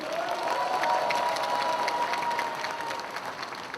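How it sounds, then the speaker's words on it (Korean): Sustained applause and crowd noise from party delegates at a Democratic Party regional convention in Gwangju, a dense steady clapping roar that fades slightly toward the end. "다 함께 격려와 응원의 박수"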